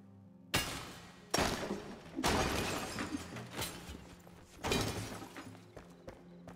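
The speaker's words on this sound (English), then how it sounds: "Then I just hear smashing and TFE coming, tearing through like a hurricane." Crashing and breaking in the block-building game Tiny Blocks, heard as several loud smashing bursts that come in waves over a quieter low hum.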